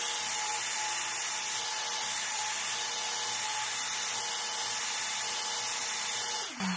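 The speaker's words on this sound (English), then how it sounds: "with the spindle on, you can cut without doing a lot of moving" A CNC router spindle cutting letters into wood for a wooden box, a steady high-pitched whine with a constant hum that continues evenly throughout and drops away at the very end, no voices.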